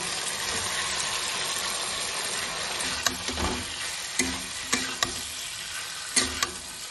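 Chicken pakoras sizzle steadily in hot oil in a pan for Kolkata-style chilli chicken, a dense constant crackle broken by several sharp scraping clicks as they are stirred.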